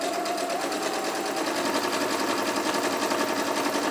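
A sewing machine runs steadily, stitching fabric for an Easter bunny gift bag, a close, continuous mechanical whir with a fast, even rhythm and no talking.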